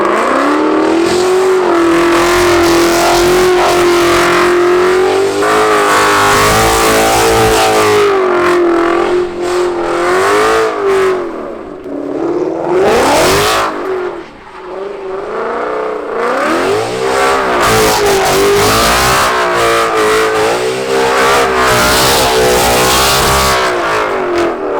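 A 500-horsepower Ford Mustang GT engine revs hard and continuously while doing donuts, pitch rising and falling in long sweeps, with a brief dip before roaring up again; loud and close.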